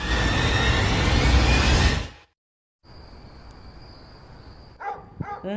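In the Indian Bike Driving 3D video game, a dog gives a few quick barks near the end, following loud engine and road noise and a short silent gap.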